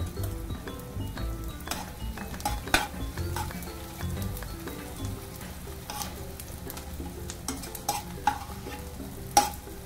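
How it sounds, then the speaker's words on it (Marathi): Edible gum resin sizzles and frays in a couple of spoons of hot ghee, a steady crackling fry with scrapes of a spoon stirring through the pan and occasional light clinks of metal. "दोन चमचे तूप टाकून त्याच्यामध्ये डिंक तळून घेते।"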